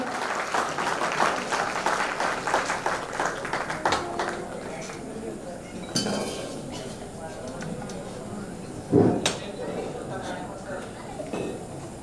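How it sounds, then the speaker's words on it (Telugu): An audience applauds to welcome a speaker at a gathering at a resort in Guntur. The clapping is loud and dense at first, then thins into scattered claps. Voices speak over it. "రవి సార్ కోసం బిగ్ క్లాప్స్ అండి."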